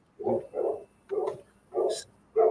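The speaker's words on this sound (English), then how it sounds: "Excuse my dog." A dog barks five times in a steady rhythm, each bark deep, close and loud, with short silences between.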